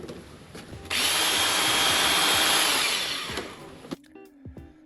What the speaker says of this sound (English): we've got this Ryobi thing, look. Which has got a great big brush on the end that just obviously spins